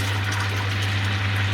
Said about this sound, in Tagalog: natutuyo na ang kanyang tubig at nag-umpisa na siyang magprito